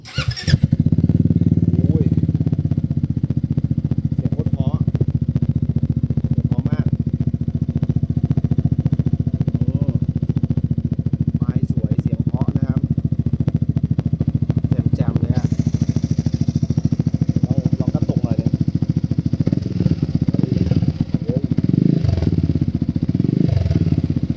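A Zontes 368G motorcycle engine idles close by with a deep, throaty, steady rumble from a short aftermarket exhaust that runs unbroken throughout.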